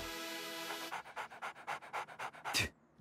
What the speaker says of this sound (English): He's just a dog.